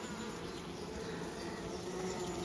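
A dense, steady buzz of many honeybees droning together inside a hive, close and continuous, with no other sounds.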